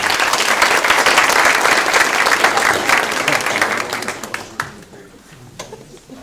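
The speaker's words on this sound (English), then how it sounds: "So we can give them a round of applause for being here." An audience at a kindergarten orientation claps for the helpers, a dense, loud burst of applause that holds steady for about four seconds, then thins into scattered claps and fades out.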